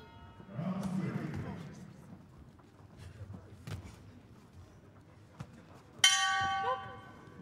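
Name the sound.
boxing bell signalling the end of the round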